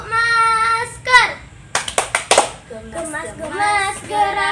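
Children clap their hands in rhythm for a mask-wearing chant: a few sharp claps near the start, then a quick run of separate claps in the middle, with children singing and chanting before and after.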